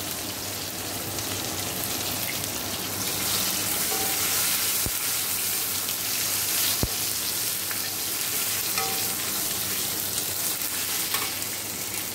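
Asafoetida (hing) dropped into hot oil in a home kitchen while cooking mango dal, giving a steady, close, broadband sizzle of frying throughout with a few faint clicks, no talking.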